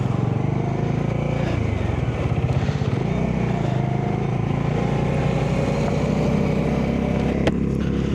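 A motorcycle rides along plateau roads, its loud, close engine droning continuously with wind rush, the pitch shifting slightly as it accelerates and eases off.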